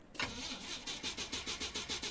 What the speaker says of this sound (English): The car won't even start.